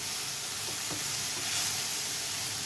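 Jaggery melting over a gas flame in a pan for mango modak filling gives a steady, soft sizzle and hiss, close and continuous, with no voices.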